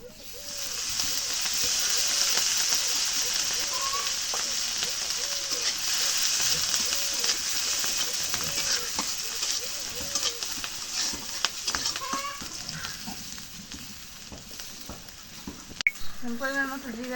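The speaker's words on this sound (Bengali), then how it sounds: "আমি মরিচ ফেলে দিয়ে দিই এখন তেল দিয়ে দিই" Dried chilies fry in hot oil in a home kitchen pan, a steady broadband sizzle holding close and loud throughout, with occasional scrapes and clinks of stirring and faint voice-like tones in the background.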